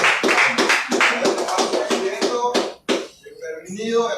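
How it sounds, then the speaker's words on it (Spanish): A church congregation claps in a quick, rhythmic beat of sharp hand claps for several seconds. The clapping breaks off abruptly, and then voices and a speaking voice take over. "Un aplauso porque vive para sí"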